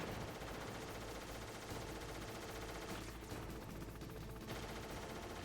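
Rapid bursts of automatic gunfire rattle continuously in the PlayStation game Metal Gear Solid, dense and steady, with a slight dip partway through.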